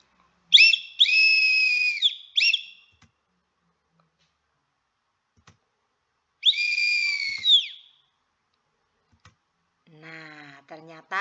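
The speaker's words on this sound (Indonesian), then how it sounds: "Sekarang peluit saya bunyikan lagi." A teacher blows a whistle in a classroom during a maths lesson: two shrill, sustained blasts separated by a few seconds of quiet, with a brief voice near the end.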